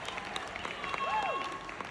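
A comedy showcase audience claps in a short burst of scattered applause, with a faint whistle-like tone sliding over it.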